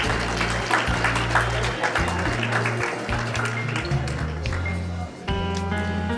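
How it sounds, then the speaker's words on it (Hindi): Loud, sustained applause from a crowd at a school alumni meet at Jawahar Navodaya Vidyalaya, Laduna, layered over a booming music track with a low repeating bass line. "जोरदार तालियों से"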